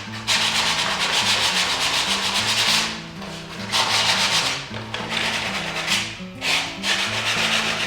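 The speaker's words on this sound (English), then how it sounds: "I'm going to rub it with some sandpaper just to rough it out a little bit and to make it look more vintage and worn" Fine sandpaper rubs back and forth over a wood pallet sign, a loud close rasping in long strokes broken by short pauses, with a faint musical tune underneath.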